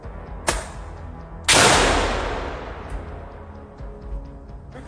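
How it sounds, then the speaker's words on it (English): Gunfire in a brief close-quarters firefight between Ukrainian and Russian soldiers with a grenade thrown: a sharp shot, then a huge blast with a long decaying echo, followed by scattered fainter shots, loud and near. "the Russians threw a grenade and a brief firefight broke out"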